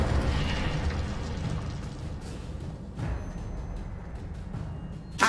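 An Incendio fire spell cast in the Hogwarts Legacy video game, a sustained low roaring whoosh with crackling bursts and a sharp pop near the end, loud and close.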